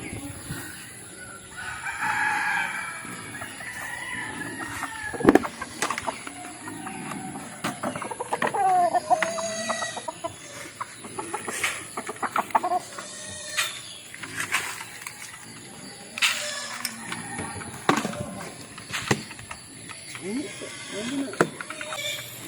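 Backyard chickens, a mother hen with her chicks, fill the air with steady clucking, peeping and occasional crowing from nearby roosters, with busy farmyard sounds and some sharp knocks running throughout.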